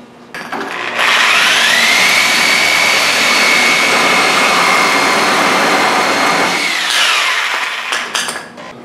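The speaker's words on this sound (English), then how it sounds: "What I got here is just a reciprocating saw with a steel blade in it, fine teeth. Works pretty good for cutting this PVC." A reciprocating saw fitted with a fine-tooth steel blade cuts through PVC pipe, one loud, steady cutting pass of about six seconds with a rising whine that starts and stops abruptly.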